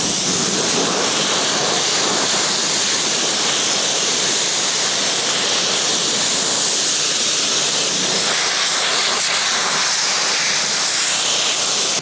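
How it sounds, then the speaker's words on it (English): A pressure washer sprays trailer deck boards, giving a steady, loud, broadband hissing rush of water that runs unbroken the whole time with no voices. "the first thing I'm gonna do is I'm gonna pressure wash several boards at a time"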